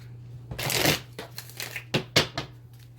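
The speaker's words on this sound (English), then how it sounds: "I'm gonna do a good shuffle here." Close, crisp riffle shuffling of tarot cards in several quick bursts, with a steady low hum underneath.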